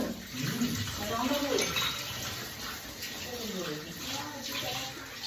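Cups being washed under a running tap, with a steady stream of water splashing and rinsing, and people talking over the flowing water.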